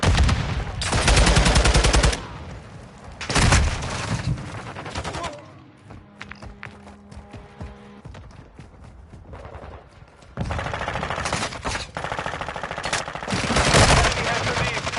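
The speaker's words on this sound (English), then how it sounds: "Taking enemy fire!" Video game gunfire from Call of Duty: Modern Warfare 2 in a Shoot House team deathmatch, with loud automatic bursts at the start and end around a quieter stretch of scattered single shots and clicks.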